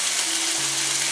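Chipolata sausages and chicken pieces sizzling loudly in a hot pan, a dense, steady frying crackle close up with a faint hum beneath.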